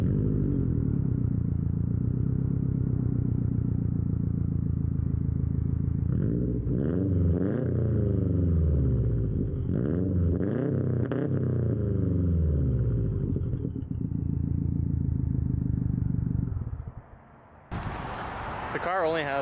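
A car engine idles with a deep, steady exhaust rumble, revving a few times in the middle before settling, then cutting off near the end; low-mileage car fitted with a tow mic.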